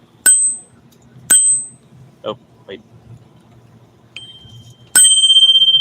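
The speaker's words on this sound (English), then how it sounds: "Let's just ring that bell." Bicycle bell rung several times in separate bright metallic dings, loud and close, with brief speech between rings and a final sustained ring.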